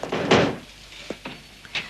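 A door opens with a loud close thump and rattle, followed by a few fainter knocks and handle clicks, indoors.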